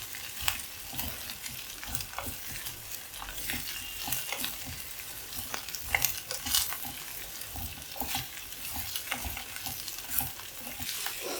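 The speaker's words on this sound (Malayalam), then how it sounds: "മാങ്ങയും കൂടെ ചേർത്ത് നന്നായിട്ടൊന്ന് വഴറ്റാം." Raw mango pieces stirred and sautéed in an oily pan for a green mango curry, with steady sizzling and repeated scraping strokes of a spoon at close range, and no voices.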